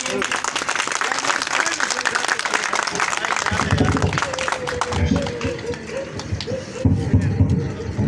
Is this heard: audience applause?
yes